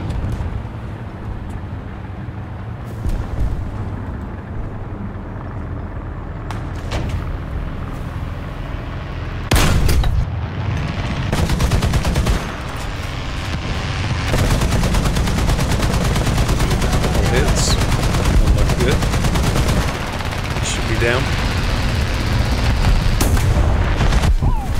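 Gunfire and heavy impacts strike an M8 LAC light tank in War Thunder ground realistic battles, with repeated booming hits and rumbling engine noise sustained throughout.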